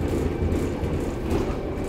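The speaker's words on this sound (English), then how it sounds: "There's the train." A train passes at a steady, moderately loud rumble, its wheels and carriages giving a continuous low roar across the short stretch, with no talking.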